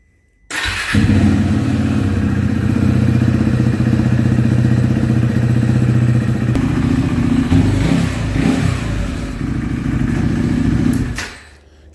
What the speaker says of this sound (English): I'm going to get the engine running, get it up to operating temperature before I drain anything.